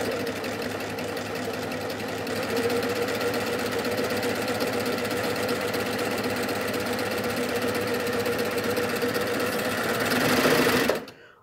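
A Baby Lock Ovation serger sews a decorative flatlock stitch with ribbons, running at a fast, steady mechanical whir that holds for about ten seconds before stopping abruptly.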